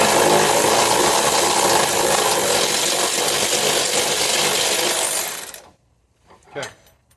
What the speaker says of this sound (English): got my trusty ridiculously long extension, and we're going to go ahead and take out